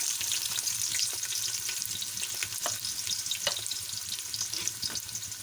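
Two chopped medium onions fry in about four spoons of oil for chicken pulao, a steady close sizzle with light crackles and occasional stirring scrapes, no one speaking.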